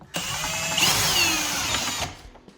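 A power drill fitted with a countersink bit drills a pilot hole into kitchen cabinets, a single loud close whine of about two seconds whose pitch shifts slightly as the bit bites, then stops.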